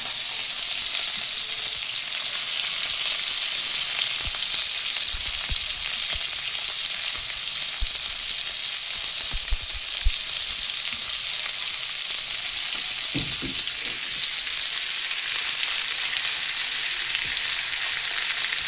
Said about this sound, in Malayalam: ഇതൊന്ന് വറുത്തെടുക്കാം.